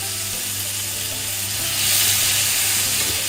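Crispy pork stir-fried with oyster sauce and dark soy sauce in a pan, giving a steady, loud sizzle and hiss that swells midway, with faint stirring scrapes and no talk.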